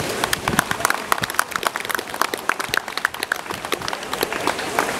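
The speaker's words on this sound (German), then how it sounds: "Applaus für euch." Outdoor crowd applause at a Fridays for Future climate demonstration in Koblenz: a steady patter of many hands clapping at moderate volume, the claps sharp and uneven throughout.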